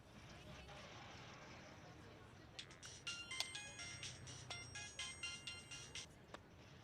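A mobile phone ringtone plays indoors as a repeating electronic melody in short regular bursts after a few seconds of quiet room noise, with faint voices around it.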